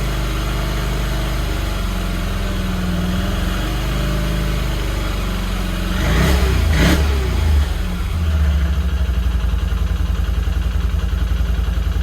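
A Can-Am Outlander ATV engine with a relocated radiator idles steadily, then briefly revs up with a rising whine before settling back to a rough, continuous drone.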